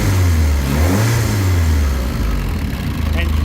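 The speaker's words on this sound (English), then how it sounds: "If I grab my throttle and give it a rev" A Ford Escort Mk1 fitted with a YB engine is revved up and held, its loud close engine note rising and falling steadily for a few seconds, with a short drop near the end.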